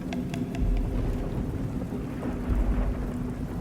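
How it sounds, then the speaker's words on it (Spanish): Rain pours during a stormy night while low thunder rumbles continuously underneath, dense and close, with a few sharper drip taps early on and no voices. "disfrutando así de los sonidos que le brindaba aquella extraña noche de tormenta"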